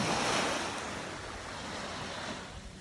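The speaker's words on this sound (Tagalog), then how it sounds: "Beautiful sunrise at the beach." Ocean waves rolling onto a beach at sunrise, a broad steady wash of surf with some wind rumble, swelling slightly at the start and holding fairly even throughout.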